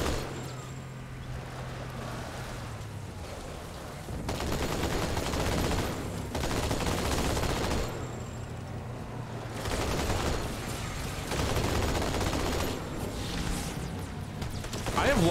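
Rapid gunfire strikes an armored Warthog vehicle in the Halo video game, with dense bursts of shots and impacts rattling through sustained engine and battle noise.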